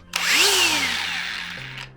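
A DeWalt DCG418 cordless 54V angle grinder with soft start spins up with a rising whine, holds a loud, close high-pitched run for about a second, then winds down as the disc slows.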